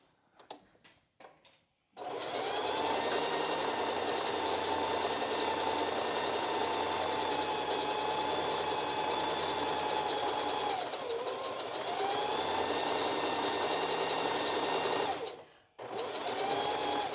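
A sewing machine stitches bra cup pieces, the inner middle cup joined to the outer, for a strapless bra. After a few faint taps it runs in one long steady whir, dips in speed midway, stops briefly, then starts again.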